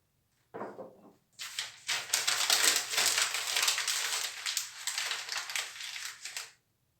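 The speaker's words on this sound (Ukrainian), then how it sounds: "це звук, коли мнуть папір" Paper being crumpled and crushed close by, a steady crackling rustle lasting several seconds before stopping.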